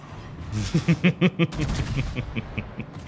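The battleship Wisconsin fires its front gun turrets in a naval combat game, a rapid string of five heavy booming shots followed by a fading run of lighter, more distant impacts and echoes.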